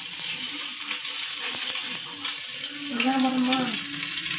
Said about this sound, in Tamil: உங்களுக்கே சவுண்டு கேட்குதா? ஆயில் கொதிக்கிறது.